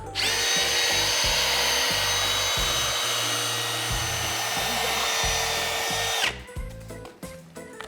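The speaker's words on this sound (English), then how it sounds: "So this is one of the foam smoothing spinners. You can just skim off any lumps and bumps in there." Power drill spinning a foam smoothing spinner over foam, a steady loud whirring whine lasting about six seconds and then cutting off, followed by quieter handling noise.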